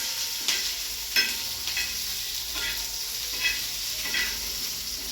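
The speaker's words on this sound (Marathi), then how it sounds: "हे सगळं परतून घ्यायचं बरं का" Vegetables and chillies stir-fried gently in a pan: a continuous hissing sizzle, with a stirring scrape rising about once a second.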